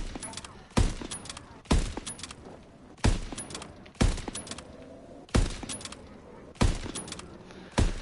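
Sniper rifle fire in Call of Duty: WWII Zombies, seven evenly spaced loud cracks about a second apart, each with a short decaying tail over faint background game sound.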